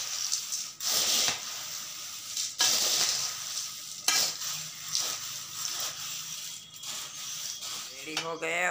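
Food is mixed in a pan with repeated scraping stir strokes over a continuous close sizzle, and a brief voice is heard at the very end.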